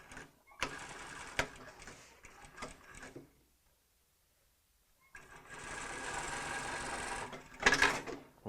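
A sewing machine stitches hammock fabric in two bursts of rapid mechanical whirring and clatter, stopping for a silent gap of about two seconds before starting again, close and clear with no talk.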